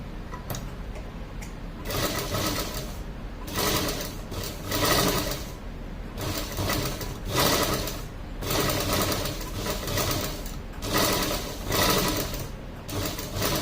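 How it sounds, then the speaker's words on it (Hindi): A sewing machine stitches fabric as clothing-stitching practice, its steady, loud mechanical whir running in long runs broken by several short stops and restarts. "सेम उसी तरीके से आप एक बगल में भी सिलाई लगा सकते हो इसके"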